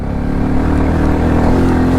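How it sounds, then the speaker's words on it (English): A Royal Enfield Classic 350 single-cylinder motorcycle engine under way on the road, a loud, steady low thrum with a close, continuous engine note. "this engine's got some nice grunt down low"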